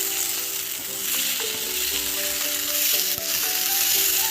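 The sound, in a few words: paneer masala mixture frying in a pan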